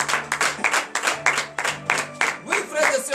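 Congregation clapping during a church prayer service, a rhythmic series of close hand claps in steady beats, with singing or voices carrying underneath.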